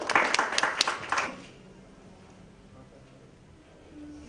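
A burst of audience clapping and cheering at a literary conversation event fills the first second and a half, then fades quickly into quiet room tone.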